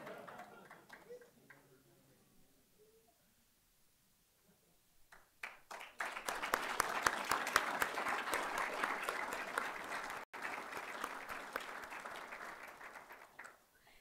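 An audience at a military annual awards ceremony breaks into sustained applause after a quiet stretch, many hands clapping steadily and loudly until the end.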